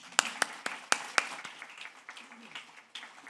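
Audience applause at a youth entrepreneurship challenge event, a few sharp claps at first then thinning into scattered, fading clapping over a quiet room.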